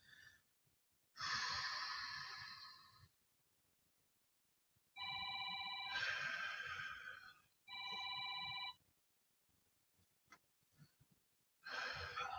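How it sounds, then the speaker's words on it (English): A phone rings during a full-body workout class, its electronic ringtone sounding in repeated bursts of bright, tonal chirps with short gaps between, moderately loud and with no talk over it. "Sorry, forgot to silence my phone this morning."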